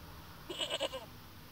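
Goat bleating in the video game Broken Sword: The Shadow of the Templars, a short run of three or four wavering bleats close together over about half a second, fairly faint against a low background hum.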